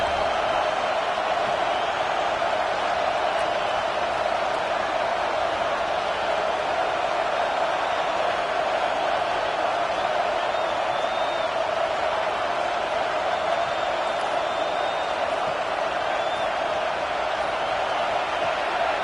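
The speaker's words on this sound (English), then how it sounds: "This crowd trying to make life miserable for this offense." Steady, unbroken roar of a stadium crowd in the College Football 26 video game, a dense wash of distant cheering that stays level and moderately loud for the whole stretch, with no clear voices standing out.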